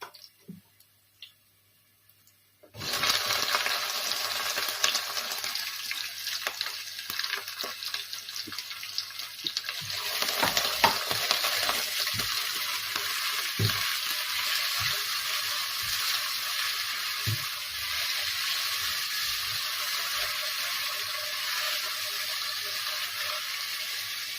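Onions sizzle steadily in hot oil in a pan for Filipino fish kinamatisan: a sudden loud hiss after a short silence, then continuous, dense frying crackle with occasional clinks, close by.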